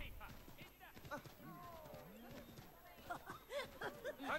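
Horse hooves clip-clopping at a run in the video game Assassin's Creed 3, a steady rhythmic patter of galloping under someone talking throughout, with game ambience in the background.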